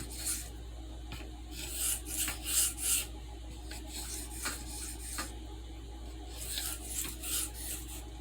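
A denim micarta work knife is sharpened with back-and-forth strokes, producing a run of soft rasping scrapes in an uneven rhythm, close and fairly quiet, with no voices.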